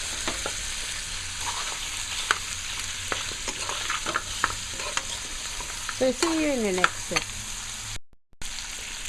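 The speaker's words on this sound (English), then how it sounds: "So now the meat is frying down very, very nice." Seasoned meat frying in a pot for Guyanese pepperpot, with a steady close sizzle broken by stirring scrapes and clinks; a voice speaks briefly near the end.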